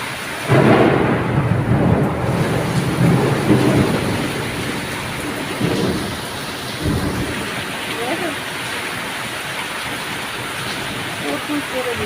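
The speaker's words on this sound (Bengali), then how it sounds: "বাজ পড়ছে দেখো, কত জোরে জোরে বাজ পড়ছে আমাদের এখানে।" A heavy thunderstorm with torrential rain roars outside, loud rumbling thunder rolling in the first few seconds, then a dense steady downpour with more distant rumbles, and a voice speaks briefly.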